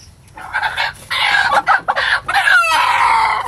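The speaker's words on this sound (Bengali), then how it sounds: "তেজি তেজি মুরগি, দেশি মোরগ একবারে" A native red country rooster clucks and squawks loudly and close by in a run of agitated, broken calls, with no voices.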